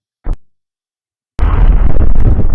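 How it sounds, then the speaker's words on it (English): Explosion sound effect for a composited ship shot: a brief pop, then a sudden loud, sustained roaring blast that fills the rest of the clip. "So for this is an explosion."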